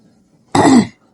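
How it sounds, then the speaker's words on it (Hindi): A single short, throaty cough, close and fairly loud, in an otherwise quiet room. "खांसी हो रही है"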